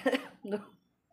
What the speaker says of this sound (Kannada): ನೋಡಿ ಕೆಮ್ಮ ಬರತ್ತೈತಿ